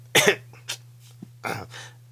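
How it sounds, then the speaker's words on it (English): A couple of sharp, close coughs, then a short pause and another harsh cough, over a faint steady electrical hum. "I tried to pause the video because I had a cough"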